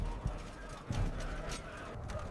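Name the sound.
horses, hooves clip-clopping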